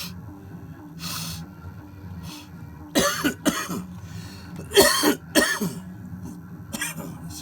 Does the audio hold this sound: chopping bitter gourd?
no